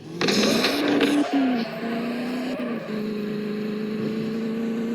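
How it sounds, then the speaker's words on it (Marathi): A Land Rover Defender in a vehicle simulator game roars at full speed. The close, loud engine tone climbs, dips briefly, then settles into a steady high drone for several seconds with no voice over it. "फुल स्पीडमध्ये आते गाडी"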